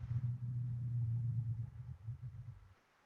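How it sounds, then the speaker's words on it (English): Distant traffic rumbles faintly and steadily, a soft low drone that fades out near the end, heard alone from afar. "Some sounds in the distance, traffic, people."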